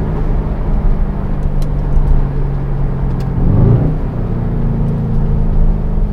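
A 2020 Mercedes-AMG C63 S Estate, set in Sport Plus mode, drones steadily from inside while driving, with a brief swell in engine note partway through and no talking.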